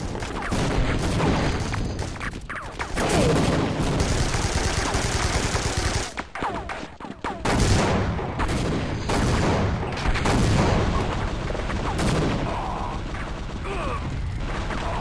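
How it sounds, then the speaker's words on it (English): Super nail gun firing in the Team Fortress Classic video game: a dense, continuous stream of rapid mechanical shots with rattling bursts, loud and close, running almost without pause, with brief dips before the firing resumes. "A super nail gun."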